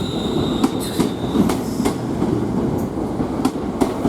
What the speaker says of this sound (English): There goes the Stafford train.